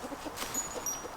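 Hens in a backyard coop cluck softly in short, scattered calls, faint and close, with a few brief higher chirps mixed in.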